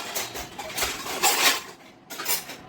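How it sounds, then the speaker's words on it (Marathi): Dishes, pots and steel utensils are scrubbed and rinsed in a home kitchen, with close clinks and clatters of metal knocking together in irregular bursts and no talking. "भांडी घासणं चालू आहे तिचं"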